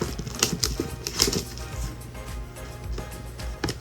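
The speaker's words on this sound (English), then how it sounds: "Let's go ahead and take the plastic off." Crinkly plastic wrap is peeled and torn off a set of makeup sponges, giving close, irregular rustling and crackling bursts in a quiet room.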